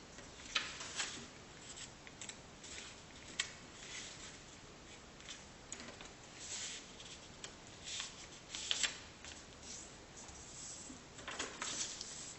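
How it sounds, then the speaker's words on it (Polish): A sheet of paper is folded and creased by hand, giving soft scattered rustles, crinkles and sharper scraping strokes at close range in a quiet room. "Pomiędzy tymi dwoma punktami prowadzimy zagięcie."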